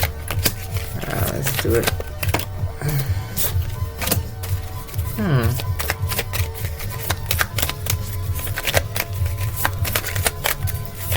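Tarot cards shuffled in short riffling bursts across a reading, crisp papery flutters recurring throughout while someone talks over them.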